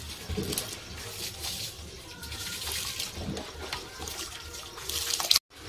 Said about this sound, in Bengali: তো চালটা ধুয়ে ভিজিয়ে রেখেছিল, তো চালটা এখন আমি ছেড়ে দেবো।